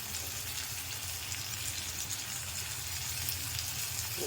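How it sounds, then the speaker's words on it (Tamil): Small tomato, finely chopped, sautéing with vegetables in hot oil for vegetable upma, a steady, even sizzle throughout with no breaks or voices. "சின்னதாக ஒரு சின்ன தக்காளி எடுத்து நல்லா கட் பண்ணி பொடியாக நல்லா வதக்கணும்"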